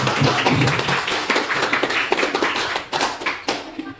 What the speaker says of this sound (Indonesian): Kita berikan aplaus untuk semua.